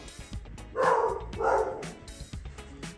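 A dog barks in a quick run of sharp, fairly close barks and yips during DIY couch spring repair work, with faint workshop clatter behind it.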